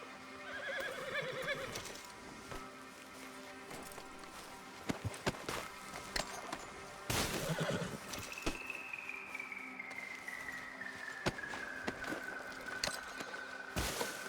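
A horse in the open-world Western game Red Dead Redemption 2 whinnies and snorts, with hoof clip-clops and scattered thuds and clatters around it, moderately close amid low ambient game sound.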